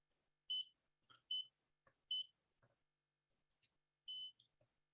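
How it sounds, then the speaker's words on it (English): A ScriptTalk station medicine reader gives several short, bright electronic beeps in an irregular pattern, with faint clicks between them, and no one speaks. "It beeps. That's to let you know to put your medicine on there."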